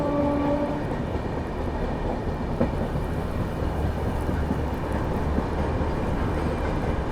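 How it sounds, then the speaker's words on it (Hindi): Prayagraj Humsafar Express passing non-stop, a close, continuous heavy rumble and roar of coaches with a brief horn-like tone at the start, steady and loud without voices. "सौर से जा रही है अपनी प्रयागराज हमसफर एक्सप्रेस जाती हुई, नॉन स्टॉप वाली।"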